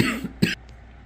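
A person coughs in two short, harsh bursts a moment apart, close to the microphone, with quiet afterward and no talk.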